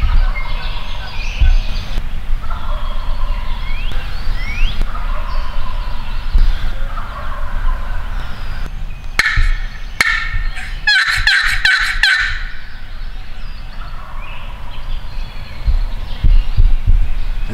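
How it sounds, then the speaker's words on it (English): Several distant wild turkey gobbles, 500-600 yards away during turkey season in Pennsylvania, ring out in quick bursts over steady outdoor background noise, faint but clearly audible across the middle of the recording. "at least they're gobbling at me, even if they are 500-600 yards away"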